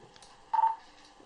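A TETRA handheld radio sounds a private-call ring, a single short electronic tone that beeps once, close and clear against near silence.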